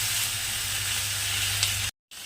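Spice masala sizzles in hot oil in a pan, a steady, close, bright hiss that holds evenly before cutting out briefly and resuming.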